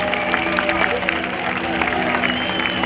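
A concert audience at an outdoor Sardinian festival applauds steadily, a dense clapping wash with a low crowd murmur underneath.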